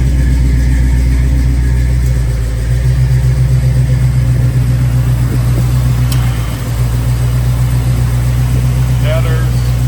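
A 1985 Chevrolet C10 shortbox pickup with headers idles in a steady, loud, low rumble that holds even throughout, close to the microphone.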